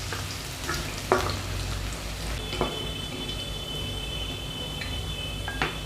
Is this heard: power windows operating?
no